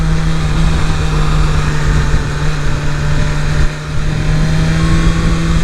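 A 2023 BMW S 1000 RR sport motorcycle engine on the street, a loud, steady droning note with a brief dip near the end, no voices.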